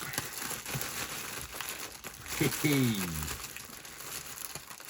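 Crinkly packaging and sellotape are handled while a Canon R3 camera and RF400 lens are unboxed, giving scattered rustles and crackles, with a brief squeaky tape-pulling sound in the middle.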